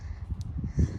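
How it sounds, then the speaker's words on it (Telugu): Crows caw outdoors on a cold Florida morning, a single close harsh call standing out over low background rumble. "ఇక్కడ మీకు అరుపులు వినిపిస్తున్నాయి, కొంగలు, కాకులు అన్నీ."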